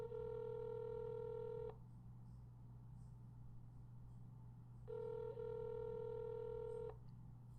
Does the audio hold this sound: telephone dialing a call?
yes